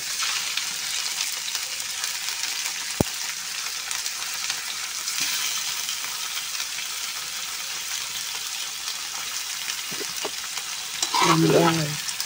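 Chicken and onion fry together for adobo with a loud, close, continuous sizzle. A few stirring clatters cut in, and stronger scraping and bubbling come near the end.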